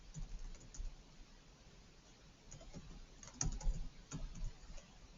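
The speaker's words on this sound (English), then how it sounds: "So I'm going to have to make sure that I type it exactly the way it's written." Irregular tapping of computer keyboard keys, sporadic and soft with a few louder clatters, close by and without speech.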